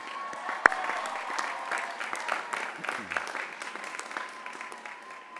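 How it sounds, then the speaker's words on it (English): A college commencement audience gives a moderate round of applause, a steady patter of many hands with one sharp nearby clap early on, continuing evenly without speech. "let's give them a round of applause"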